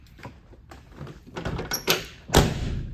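The door of a 1971 GMC 2500 pickup truck shuts with a solid thud, preceded by a few lighter clicks and handling noises, fairly close and loud.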